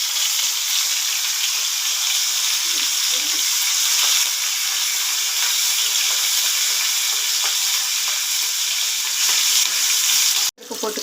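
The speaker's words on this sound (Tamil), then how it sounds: "கடுகு நல்லா பொரிஞ்சிருச்சு. பொரியட்டும். நல்லா பொரிஞ்சிருச்சு. பச்சை மிளகா போட்டுக்கலாம்." Mustard seeds and green chillies fry in hot oil on a tawa, giving a loud, steady sizzle with faint popping that runs unbroken for several seconds before a sudden clatter near the end.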